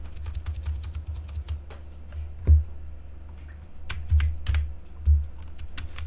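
Steady typing on a computer keyboard, with quick irregular key clicks and several heavier thumps like the space or enter key, close and clear with no talking.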